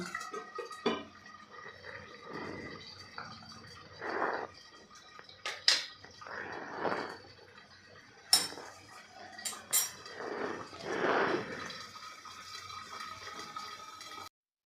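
A lid clinks onto a pan of green peas cooking for a potato-and-pea breakfast dish. Several sharp metallic taps and clatters stand out over a low background hiss and quieter kitchen sounds, with no talking.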